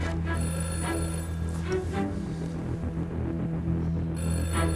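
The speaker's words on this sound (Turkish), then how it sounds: "Ben gerçekten bakmalıyım o telefona." A telephone rings inside a home during a visit, with bright ringing bursts at the start and again near the end over a steady low room hum. No one speaks.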